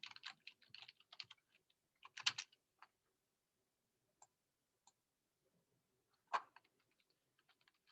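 Quiet, scattered typing on a computer keyboard, short bursts of soft key clicks separated by pauses, with a few isolated taps toward the end.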